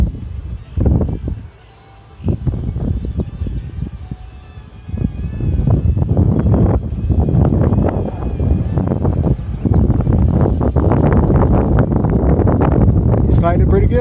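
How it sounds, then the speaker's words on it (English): A Z51 Predator drone flies at full throttle in high wind, its buzzing motor running steadily under heavy wind noise on the microphone, with someone talking briefly near the start. "Now I'm going to go full throttle because I can feel the wind hitting me in the back."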